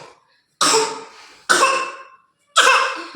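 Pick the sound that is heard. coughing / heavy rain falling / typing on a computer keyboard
coughing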